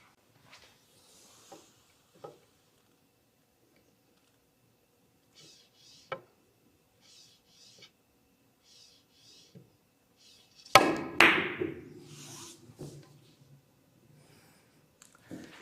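Billiard cue striking balls in a carom double-cushion shot, a few soft taps in near silence and then one sharp crack with rolling ball clatter after it, fading out into quiet.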